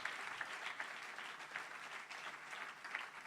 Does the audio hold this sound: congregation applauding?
yes